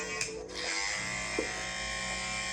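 Electric hair clippers buzz steadily and close by, a continuous bright drone with slight shifts in tone as they move.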